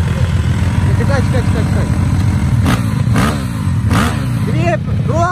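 A KOVI 300 motorcycle with a big bore kit and ported head revs hard nearby, its loud buzzing engine rising and falling in repeated throttle blips while someone speaks briefly over it.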